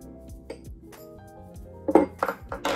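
A spoon mixes potato peel, curd and honey into a paste in a small bowl, giving soft scattered clinks and taps that grow louder and busier toward the end.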